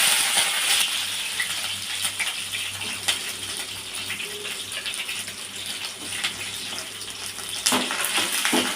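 Fenugreek, curry leaves, green chilli and garlic sizzle in hot oil as the tempering for a Tamil sankara fish curry. A steady crackling hiss runs throughout under a low hum, with a few louder pops.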